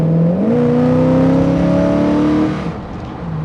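The engine of a restored Jensen FF classic car revs loudly, its pitch climbing steadily, then drops sharply as the gearbox kicks down into first, settling to a lower hum.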